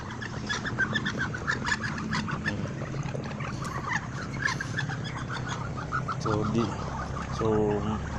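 A flock of ducklings chirps and peeps busily nearby at feeding time, with many overlapping calls and some voices talking in the background.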